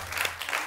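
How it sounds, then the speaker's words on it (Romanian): A studio audience at a comedy TV show claps briefly, a short dense burst of applause. "aplaudismentele."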